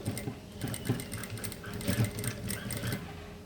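A sewing machine stitches a hip seam in quick, rhythmic bursts of needle strokes, close and clear, with short pauses between runs.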